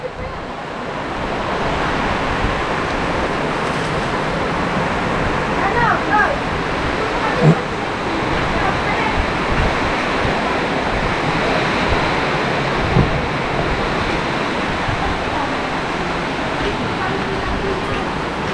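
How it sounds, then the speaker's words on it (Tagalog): Strong wind roars steadily into the microphone throughout, a dense continuous rush with a few brief gusty thumps. "Sobrang lakas ng hangin, mga kakulog."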